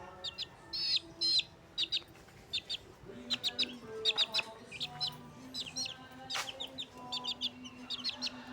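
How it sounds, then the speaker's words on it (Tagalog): Baby chicks chirping in a rapid, overlapping chorus of high peeps, fairly close, with a few lower clucks from adult chickens mixed in amid light outdoor background noise. "Ito na yung mga sisiw natin."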